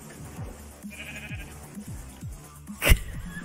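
Minecraft sheep bleat in repeated short, falling calls at a steady rhythm, fairly close and clear over a low game background, with one sharp louder click near the end.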